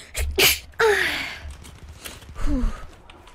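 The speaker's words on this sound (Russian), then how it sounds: "Сейчас чихну." A woman sneezes loudly, with a sharp sneeze burst near the start, followed by breathy exhalation and a short sigh-like sound, close up, during a game stream.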